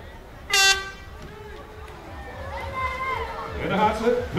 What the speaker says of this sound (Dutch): Ze wachten op de toeter.